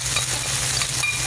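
Onion and garlic sauté in a hot pan for Qatari beef salona, giving a steady, close sizzle with faint scraping.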